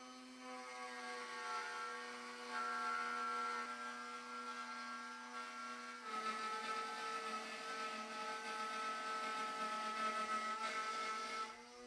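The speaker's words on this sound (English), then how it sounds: "The Dremel's done a good job of bringing in the overhang, but it doesn't take us all the way." Dremel rotary tool fitted with a router base, edge guide and 1/8 inch down-cut bit trimming an overhang, a steady high-pitched motor whine that shifts pitch partway through as the bit loads and unloads.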